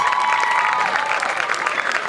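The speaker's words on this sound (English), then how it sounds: "Please, a round of applause for yourselves." Newly inducted students at a university matriculation ceremony applaud together, a short burst of dense, even clapping with faint cheering and no clear talk over it.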